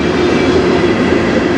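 A CN freight train hauled by four locomotives passes close by, a brief, loud, steady rumble of rolling wheels and engine hum with no break.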